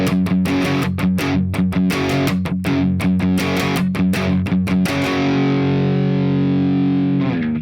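Distorted electric guitar plays the rhythm part of a song, choppy palm-muted strums in a tight repeating pattern, then a sustained ringing chord held to the end, loud and close with no talking.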